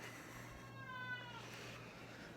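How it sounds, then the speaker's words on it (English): A house cat gives one faint, drawn-out meow that rises and falls over a quiet background hum, heard from a short distance. "Shut up, cat."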